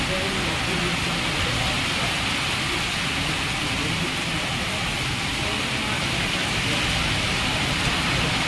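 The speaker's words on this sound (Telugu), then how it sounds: "మద్దూర్లో భారీ వర్షం ఈరోజు కురుస్తుంది." Heavy rain pouring down in Maddur, a dense, unbroken close hiss of falling water holding steady throughout.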